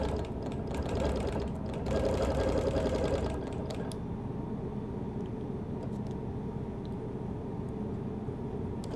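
A sewing machine quilts a Baltimore album quilt block, a fast rhythmic mechanical whir and clatter up close that runs for several seconds, then drops to a quieter steady stitching.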